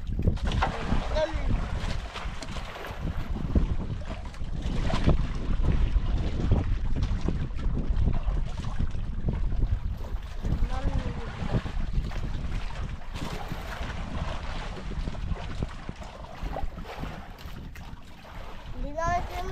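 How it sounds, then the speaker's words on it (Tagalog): Gusting wind buffets the microphone with a loud, rumbling roar, while people talk intermittently underneath. "Hangin, hangin."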